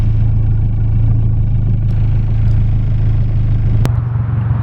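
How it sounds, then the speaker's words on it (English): A warmed-up car engine idles steadily, a loud, constant low rumble close by, with a brief sharp click near the end and no talking. "The car's already warmed up"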